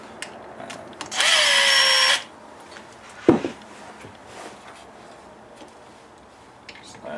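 A power drill whirs loudly for about a second, drilling holes for a front speaker bracket in a 2007-13 Silverado 2500HD, followed by a sharp knock and quiet ticking in an otherwise still space.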